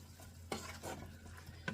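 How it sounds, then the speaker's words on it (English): Cooked vegetables are stirred in a sizzling pan, with a few scraping strokes and light clinks of a utensil against the pan over a low steady frying hiss. "let me get it stirred around"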